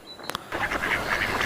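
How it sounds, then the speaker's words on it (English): A duck quacks in a quick, steady series of loud, close nasal calls, opened by a couple of sharp clicks and a moment of quiet. "Duck,"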